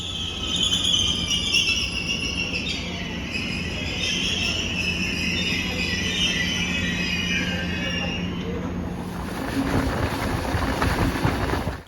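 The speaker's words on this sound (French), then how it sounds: "Un train à 2 niveaux part pour Interlaken." A double-decker train departing for Interlaken, with high wheel squeal and rumbling rail noise under steady running sound, close and sustained, ending in a broader clattering burst near the end.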